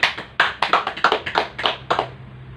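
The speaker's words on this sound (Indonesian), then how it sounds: "Mari kita berikan tepuk tangan untuk adik-adik kelompok 2" A short round of clapping from a small group, a dozen or so crisp claps in an uneven rhythm, close by.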